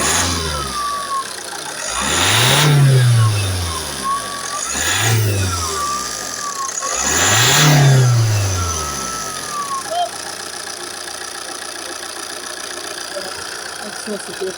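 Opel Insignia CDTI diesel engine, with a loss-of-power fault, revved three times in a row, each rise and fall swelling and easing, then settling to a steady idle; close and fairly loud.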